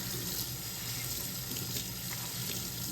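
Warm tap water pours steadily from a faucet into a sink while a tie-dyed shirt is rinsed, a continuous broadband splashing hiss with no talk.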